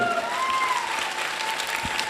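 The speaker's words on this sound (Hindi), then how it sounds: "एक जोरदार वाली तालियां होनी चाहिए।" A crowd at a motivational business seminar breaks into loud, sustained applause, a dense steady wash of many hands clapping, with a faint tonal whistle or feedback drifting in the background.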